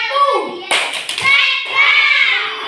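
Children in a classroom clap in a quick burst of a few claps, close and loud, mixed with children's voices and shouting around it.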